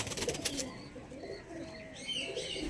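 Black Diamond pigeons coo softly in a loft, low murmuring calls layered with faint chirps and a little background rustle, steady and fairly quiet throughout.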